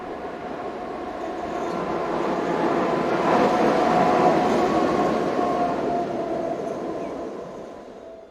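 A pair of class 67-400 diesel locomotives heading south after a passenger run to Boulogne, rumbling past with a rising and fading roar and a steady engine drone over about eight seconds, no voices.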